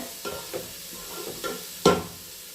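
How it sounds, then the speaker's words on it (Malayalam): Onions sautéing in a pan, with a few soft scraping stir strokes over a faint sizzle and one sharper clank near the end, close and quiet. "ഇതൊന്ന് വഴറ്റിയെടുക്കണേ. നല്ലോണം ഒന്ന് വഴറ്റി കിട്ടട്ടെ."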